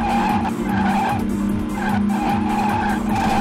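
Stock car in a racing video game bumping an opponent and skidding, heard as loud engine drone with repeated tire squeal and skid noise throughout, no talk.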